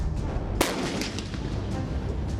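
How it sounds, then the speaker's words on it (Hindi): A K9 Vajra self-propelled howitzer fires during an Indian Army exercise near Bikaner: a single sharp, loud blast rings out over a constant roar of background noise, with no talk. "इंडियन आर्मी के तोपखाने से निकली K9 वज्र होवित्जर ने अपनी ताकत का एहसास कराना शुरू कर दिया"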